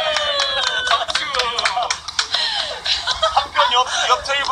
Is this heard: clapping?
yes